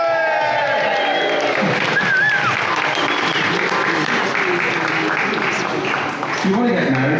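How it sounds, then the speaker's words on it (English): Wedding reception guests applaud and cheer for the witnesses, a loud, sustained wash of clapping with scattered whoops, and voices mixed in throughout. "Give them a cheer as well"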